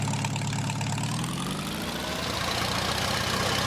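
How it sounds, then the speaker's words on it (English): A Farmall M tractor engine idles in Farming Simulator 19, fitted with plow duals, giving a steady low rumble that holds evenly and alone for the whole stretch, with a slight shift in the low drone partway through. "we're going to jump in this tractor real quick. Let you hear the sound of it."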